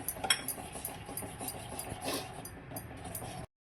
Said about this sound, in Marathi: आपण त्यामध्ये ही कस्टर्ड पावडर टाकायची आणि थोडं ढवळत राहायचं आहे